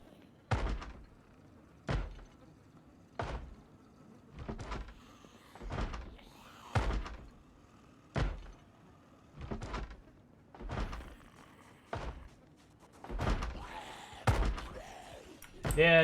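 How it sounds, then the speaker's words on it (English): Repeated heavy banging on a door in a video game, about a dozen loud thuds spaced roughly a second or more apart, with some brief talk between the blows. "They're banging the door."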